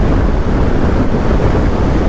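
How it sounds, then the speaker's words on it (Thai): Strong crosswind buffets the rider of a BMW R1300GS motorcycle on the road, a loud, continuous roar of wind blasting over the microphone from start to finish with no voices. "คิดดูว่าความแรงของลมข้างแม่งขนาดไหนครับ"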